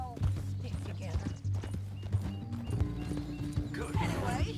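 In Red Dead Redemption 2, a horse's hooves clip-clop in a steady walking rhythm, close and clear, with a brief whinny and game sounds mixed in, and no speech.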